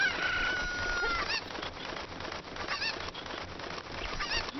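Cucco chickens in The Legend of Zelda: Ocarina of Time (DS version) cluck and squawk in short bursts over a steady bed of game background ambience, several calls repeating through the moment.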